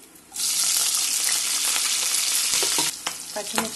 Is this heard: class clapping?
no